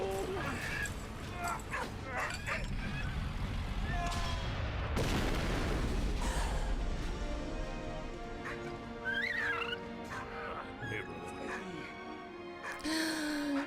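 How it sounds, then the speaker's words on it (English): A dog barks, yips and whimpers in the World War I game Valiant Hearts, with artillery booms and battle noise around it and a person talking excitedly over the sounds. "Help the dog now! He's getting hurt!"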